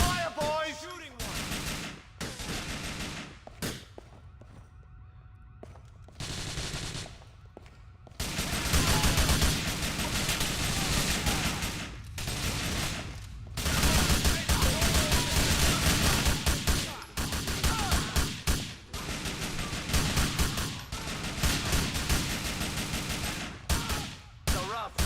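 Heavy gunfire in Grand Theft Auto IV: dense, loud volleys of rapid shots that come in long sustained bursts with brief pauses between them, with some talk mixed in.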